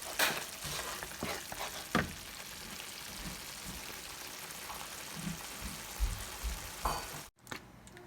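Thick biryani gravy simmers in a pan and is stirred now and then, with a soft continuous bubbling sizzle, occasional scraping strokes and a brief cut near the end.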